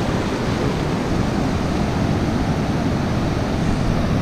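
Rough sea waves at a fishing spot make a loud, continuous wash of surf and rushing water, steady throughout with no talk.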